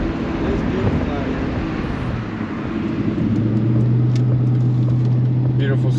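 A Ford Mustang on a quick drive along a scenic road, heard as a steady low engine drone and road rumble that holds throughout, with the engine tone settling into a firmer hum midway.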